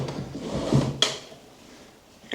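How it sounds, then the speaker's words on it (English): A stuck wooden desk drawer in an abandoned mansion scrapes and rumbles as it is dragged open, ending in a sharp knock, close and alone. "Drawers are like stuck."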